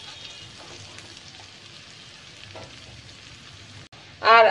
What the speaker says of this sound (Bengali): দিয়ে এবার ভালো করে মশলাটাকে ফ্রাই করে নিচ্ছি।